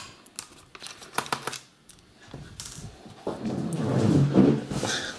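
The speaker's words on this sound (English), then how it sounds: "The sound you hear is actually me sitting on a fitball" A person shifts their weight on a fitball while taking apart a Lenovo E550 laptop, giving a rising crinkly creak and rubbing rustle in the later half, after some earlier light clicks and handling noises.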